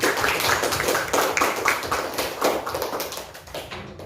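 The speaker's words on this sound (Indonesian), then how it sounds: "Tepuk tangan untuk semuanya." A class claps for student groups in a classroom, loud uneven hand claps coming in quick bursts close by, gradually thinning toward the end.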